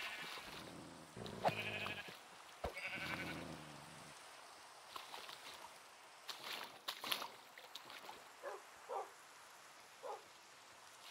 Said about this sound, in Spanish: Hay tela de ovejas aquí.